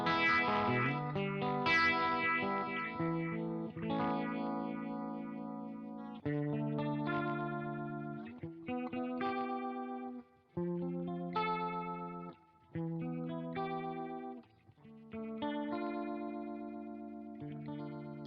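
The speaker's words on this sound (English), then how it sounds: "let's now try the phaser by itself" Donner and Third Man Triple Threat guitar pedal with its phaser engaged alone, colouring a clean electric guitar that plays chords and picked notes with a sweeping, swirling tone, with no talking.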